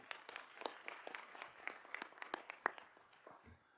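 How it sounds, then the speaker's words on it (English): A board of education audience gives a quiet round of applause after a presentation, with scattered, overlapping claps heard faintly from across the room that taper off within a few seconds. "Big round of applause."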